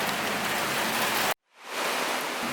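Heavy, wind-driven rain pours steadily outdoors near Fort Siloso, a dense roar that cuts out abruptly for a moment before swelling back in.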